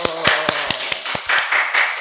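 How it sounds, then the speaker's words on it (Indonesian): A few people clap in a small room during an Indonesian talk show discussion about a damaged road; sparse, uneven hand claps and taps, close and loud, with a voice speaking over them in places. "Tepuk tangan dong."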